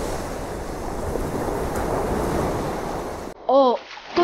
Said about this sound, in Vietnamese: Ồ, có chuyện gì mà tự nhiên biển động thế này?